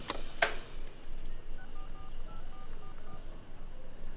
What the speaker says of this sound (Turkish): Bir telefon etmem lazım.